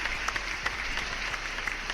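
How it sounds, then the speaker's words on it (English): Loud applause rolls on steadily at a moderate distance, many hands clapping together in a dense, even wash throughout. "Loud claps."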